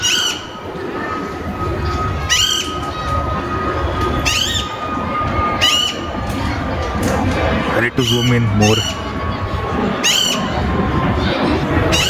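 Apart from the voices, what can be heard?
birds calling in a park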